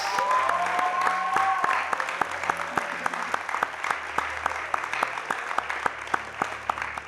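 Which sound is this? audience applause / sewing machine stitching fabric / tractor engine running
audience applause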